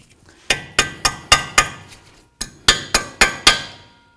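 A hammer strikes a steel cotter pin on a tie rod nut of an 08-12 Jeep Liberty: two bursts of sharp, ringing metallic taps, five blows, a pause, then five more, close and loud.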